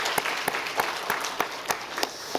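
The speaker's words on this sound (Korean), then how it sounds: "우리 큰 박수로 격려하겠습니다" A church congregation applauds the worship team with steady, dense clapping across a hall, sharper individual claps standing out from the crowd, continuous through the whole stretch.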